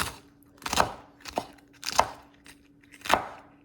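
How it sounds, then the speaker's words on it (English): Four crisp knife chops cut through a home-grown Scotch bonnet pepper on a cutting board, evenly spaced about a second apart, close and clear with no talk. "So here I am cutting it up."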